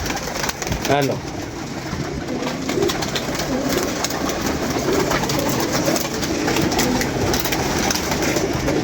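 Pigeons being handled at a Lahore fancier's gathering coo faintly beneath steady crowd noise and a voice, the calls blending into the busy background.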